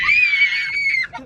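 A parrot gives one loud, sustained, piercing scream for about a second during a neighborhood fight, followed by a short harsher squawk, close and dominant.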